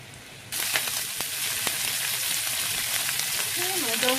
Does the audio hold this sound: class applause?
no